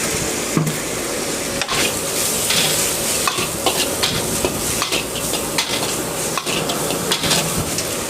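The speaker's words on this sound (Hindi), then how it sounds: "चाउमीन फ्राई करते हैं।" A street vendor fries chowmein noodles in a wok, stirring hard with loud, regular metallic clanks over a continuous close sizzle.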